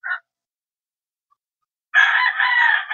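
A gray Sweater bloodline gamecock crows nearby: a brief clipped call at the start, silence, then a long, loud full crow that runs to the end.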